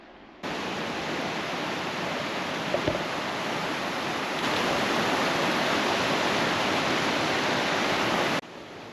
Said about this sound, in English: One of the first of many bridges over the Thredbo River, which is flowing pretty hard indeed.